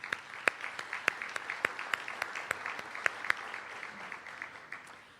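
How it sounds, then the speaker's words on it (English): Sparse, fairly faint clapping from a small audience at an awards event, with individual sharp claps spaced out in a loose, uneven rhythm. "So give yourself a round of applause."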